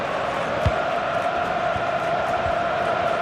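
Stadium crowd noise from an FC26 football match, a Portugal vs Argentina World Cup final: a steady, loud roar of cheering fills the whole stretch, with a few low thumps rising briefly above it.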